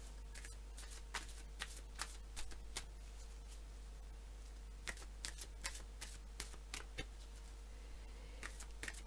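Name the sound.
shuffling Gaia oracle cards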